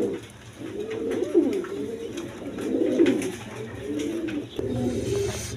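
A pair of Giachulli pigeons coo close by in repeated soft, throaty rolling phrases, several overlapping calls in a steady rhythm over a low background hum.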